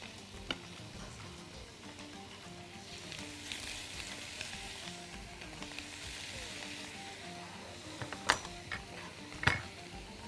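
Chicken drumsticks fry in melted butter with garlic, salt, pepper, dried parsley and rosemary, a quiet steady sizzle under occasional light ticks and two louder utensil knocks against the pan near the end.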